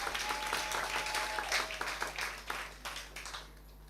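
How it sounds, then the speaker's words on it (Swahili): An audience at a club members' recognition event applauding to welcome guests, a crowd of clapping hands at moderate distance that is dense at first and thins out toward the end, over a low steady hum. "Hebu tupigie wageni makofi tafadhali."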